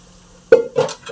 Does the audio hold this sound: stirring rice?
yes